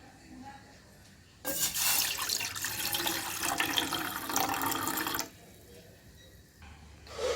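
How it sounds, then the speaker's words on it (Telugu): Water poured into a pot on a stove, a steady splashing gush lasting a few seconds after a quiet start, then stopping, with faint background hum. "కొన్ని నీళ్ళు పోసుకుందాం ఫ్రెండ్స్."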